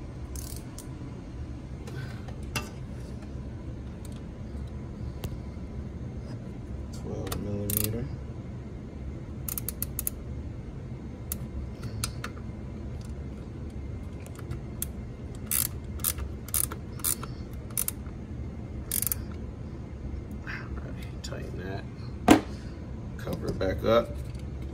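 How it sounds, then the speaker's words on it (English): Ratchet wrench tightening a starter bolt on a 2006 Toyota Corolla, with intermittent clicking ratchet strokes and metallic clinks in short bursts over a low background hum, someone talking at times. "Tighten that down with my ratchet wrench."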